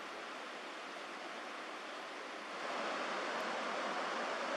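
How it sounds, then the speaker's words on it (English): Rough, fast-flowing river water rushes past near Nymph Falls in the Comox Valley, British Columbia, a continuous broadband roar that swells slightly louder partway through, with no voices. "The water was becoming rough again."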